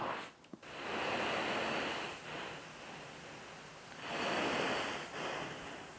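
A CPAP machine set to 12 cm of water pressure, with no V-COM attached, gives a steady broadband hiss of airflow that swells and eases in slow breathing-like waves, close and unbroken.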